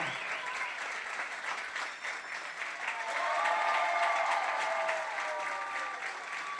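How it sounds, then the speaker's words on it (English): A baseball crowd at a Collinsville Kahawks home game applauds and cheers for Kaylee as she throws out the first pitch, steady clapping swelling midway with whistles and raised voices across the stands. "Let's all give Kaylee a big Kahok cheer"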